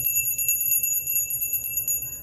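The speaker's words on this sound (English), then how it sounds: "Using our bell" A small bell is rung repeatedly, bright sustained ringing tones with a steady shimmer and rapid strikes throughout, clear and close with no talking.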